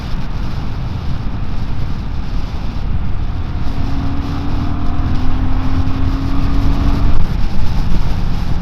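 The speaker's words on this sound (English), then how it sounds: "Getting up to speed, we'll pull onto the dual carriageway." A BSA 650 Scrambler motorcycle accelerating onto a dual carriageway, heard from the rider's position as a rising engine note under heavy wind rush, loud and steady throughout.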